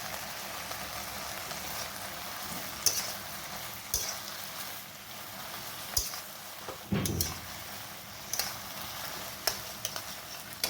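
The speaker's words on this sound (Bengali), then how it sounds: "এটা এখন কিছুক্ষণ ভাজতে হবে এইভাবেই তেলের মধ্যে, কিছুক্ষণ এটাকে লাল লাল করে ভাজতে হবে" Something frying in oil in a pan, likely fresh green chillies among it, gives a steady soft sizzle with a few light clicks and stirring scrapes, close and with no talk.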